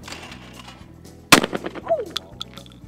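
A single sharp gunshot from a gas-operated 20 gauge shotgun with a shorter stock and barrel, one loud close crack followed by a brief decaying echo against a quiet outdoor background.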